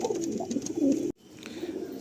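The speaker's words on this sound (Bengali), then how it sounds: "নটটা ম্যাড্রাসি পায়রা" Madrasi pigeon cooing close by among kept pigeons: a soft, low, rolling coo lasting about a second, then it cuts off abruptly, leaving faint background noise.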